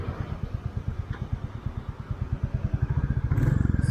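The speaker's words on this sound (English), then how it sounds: "Love the sound of this engine." A Royal Enfield Classic 350 single-cylinder engine thumps steadily up close, its rhythmic low pulses quickening and growing louder toward the end as it revs, with no speech over it.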